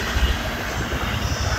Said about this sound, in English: That's a fast train there, 65 miles an hour.